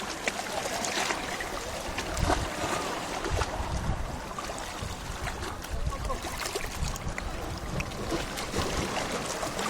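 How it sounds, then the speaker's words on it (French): Sea waves washing and splashing against a shoreline, a loud continuous churning wash with surges, close by and filling the whole stretch. "Il y a des vagues."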